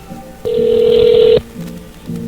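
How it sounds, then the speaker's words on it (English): Telephone during a prank call, giving one loud, steady tone close by that holds for about a second, with quieter phone-line sounds before and after it. "Why don't you quit dialing my number"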